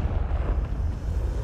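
A Confringo fire spell explodes in Hogwarts Legacy, a dense, low roaring rumble that holds steady and loud throughout without clear breaks.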